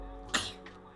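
A single short sneeze bursts out near the start over a steady hum of background noise, close and fairly loud, followed by a faint trailing sound.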